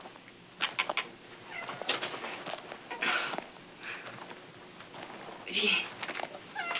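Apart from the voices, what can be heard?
cat meowing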